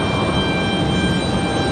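Airliner at Raleigh-Durham International Airport, a continuous loud jet engine roar with a steady whine, heard briefly with no talking.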